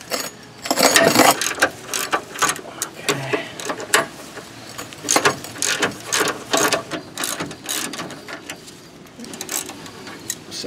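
A ratchet loosens 15 mm sway bar bushing bolts on a car during a twin-turbo build, giving close, sharp clicking in repeated short bursts with brief pauses between strokes.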